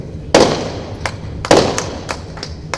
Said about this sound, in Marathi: आल्यापासून जे फटाके वाजतात ते अजून बंद झाले नाही